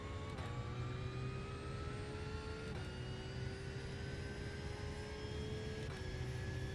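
Race car in iRacing accelerates through a wet Nürburgring endurance practice lap, its steady engine tone rising through the gears with brief dips at each shift, heard alone and fairly faint.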